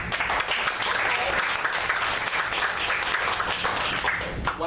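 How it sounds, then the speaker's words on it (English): A large crowd at the Flag Down 2014 gathering gives itself a round of applause: steady, dense clapping fills the space evenly from start to finish, with no pauses. "Please give yourselves a round of applause"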